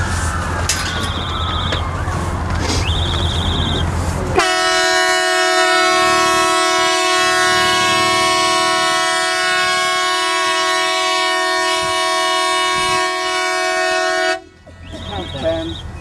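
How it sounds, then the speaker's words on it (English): A loud, sustained air horn sounded before a building demolition in Glasgow, one long steady blast of about ten seconds that ends abruptly, with voices and outdoor noise around it before and after. "I will sound the air horn."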